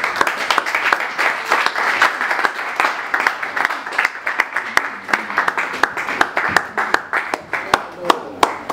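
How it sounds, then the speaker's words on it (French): An audience at a foundation launch in Istanbul applauds the arrival of a CEO, steady loud clapping from many hands that rolls on without pause, with scattered voices mixed in. "j'aimerais vous demander de l'applaudir et de se lever comme un seul homme pour l'accueillir"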